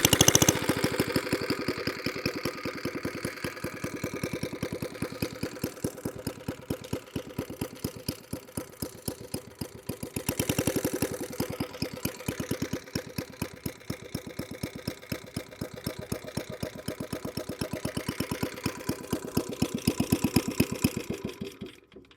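A 1958 Suffolk Squire lawn mower with a 19-inch cut and grass box, its small engine chugging steadily in a fast, even beat, close and alone, swelling briefly about halfway through and again near the end.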